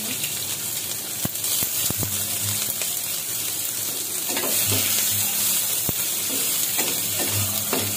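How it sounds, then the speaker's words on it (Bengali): Chopped garlic and onion fry in hot oil in a kadai for a rajma tadka, a steady close sizzle broken by sharp clicks and scrapes of stirring. "আমি আরেকটা কড়াইতে একটু তেল গরম করে নিয়েছি, তাতে একটু রসুন কুচি"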